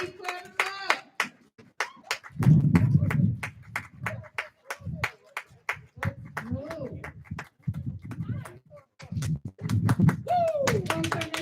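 Sharp, rhythmic hand claps from a poetry slam audience, steady and close, running beneath bursts of talk and an excited exclamation.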